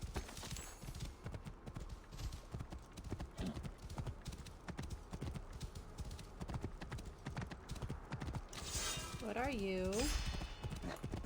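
Hooves clip-clop in a steady, close rhythm from a horse in Assassin's Creed Origins, with a wavering neigh near the end; someone speaks briefly over the gameplay sound.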